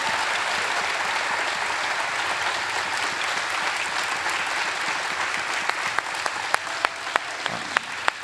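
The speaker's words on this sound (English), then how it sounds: "one more round of applause for them" Audience at an evening live event with Riley Gaines applauding, a steady dense wash of clapping that thins out toward the end into a few distinct, separate claps.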